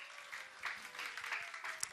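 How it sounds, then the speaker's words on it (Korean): Short burst of applause from a church congregation at a children's department certificate ceremony, steady clapping over the whole moment, moderately distant and fairly soft. "박수"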